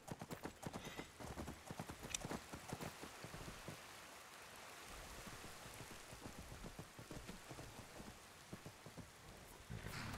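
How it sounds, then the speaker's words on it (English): Horse galloping in the Skyrim video game, with rapid, steady hoofbeats that carry on through most of the clip under a constant hiss of rain and faint distant rumbles. "we're going to climb on the horse, and we're just going to bolt to the west"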